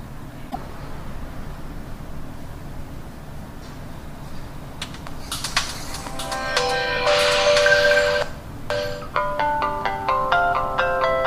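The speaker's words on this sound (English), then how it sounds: "and now the phone is going to reboot." A Samsung Galaxy S Continuum smartphone restarts after a hard reset, playing a bright electronic startup chime of stepped tones that swells midway and then breaks into shorter blips over faint room noise.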